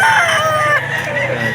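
A gray gamecock crows loudly and close, one long drawn-out call with a falling tail, alone without talk.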